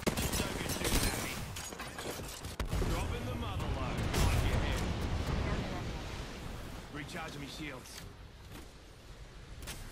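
Dense bursts of gunfire in the Apex Legends video game, loud and continuous over a busy roar of combat noise, with sharp cracks repeating throughout.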